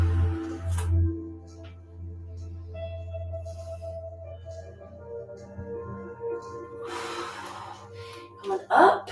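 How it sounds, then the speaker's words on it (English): Slow, deep breaths in and out during a Pilates session with light weights, soft airy inhales and exhales over faint background music, with a sharper, louder breath near the end. "Just breathe it in and breathe it out."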